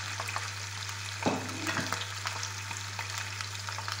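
Chicken wings and rice fry in a pan, giving a steady close sizzle while a utensil stirs through them with a few scraping knocks.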